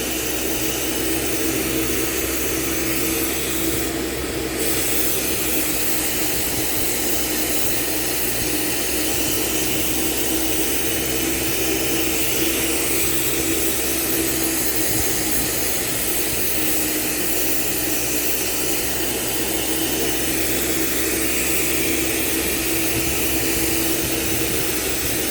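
A reamer bores into a graphite workpiece, then steps up to the next size. It makes a loud, steady machine whine and grinding noise that runs unbroken throughout, with no talking.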